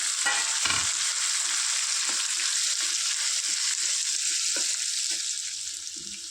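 Two tomatoes frying in a pan for an aloo tomato curry, giving a steady, loud sizzle throughout with occasional stirring scrapes and no talking.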